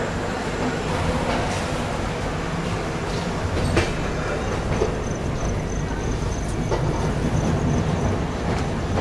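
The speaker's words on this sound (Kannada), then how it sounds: "ನಾವು ಸದ್ಯಕ್ಕೆ ಹೊರಟ್ಬಿಟ್ಟಿದ್ದೀವಿ ರತ್ಲಾಮ್ ರೈಲ್ವೆ ಸ್ಟೇಷನಿಂದ ನಿಧಾನವಾಗಿ." A Humsafar train, the Palace Queen, slowly leaves Ratlam railway station, heard from on board as a loud continuous rumble with rhythmic wheel clatter, scattered metallic clanks and faint squeals.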